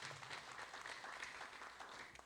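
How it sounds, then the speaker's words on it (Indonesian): Applause from a church congregation, a steady, fairly faint wash of many hands clapping together without pause. "Berikan tepuk tangan dulu bagi tukang parkir kita."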